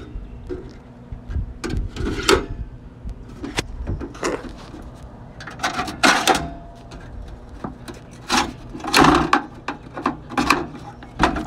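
Legs of a 1920s suitcase camp stove being unfolded: a series of close, sharp clicks, clacks and scraping rubs that come in irregular bursts over about eleven seconds, with no talking.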